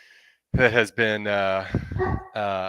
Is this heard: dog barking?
yes